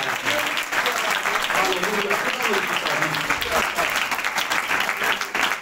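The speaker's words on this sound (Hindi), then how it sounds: "आइए खुदावंद के अजीम काम के लिए तालियां बजाएंगे।" A church congregation claps steadily and enthusiastically during a Sunday service, a dense sustained applause lasting throughout, with a voice carrying faintly beneath it.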